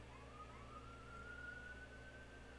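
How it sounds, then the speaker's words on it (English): An ambulance siren passes in the distance, a faint, steady rising wail that holds over a low background hum with no talking. "Sorry, ambulance going by."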